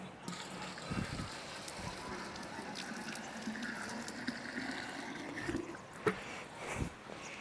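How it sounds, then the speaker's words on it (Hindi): Water pours steadily into a clay matka pot set up for an underwater firecracker experiment, a soft continuous splashing and gurgling at low level with a few brief louder knocks. "हमने पानी डाल लिया मटके के अंदर"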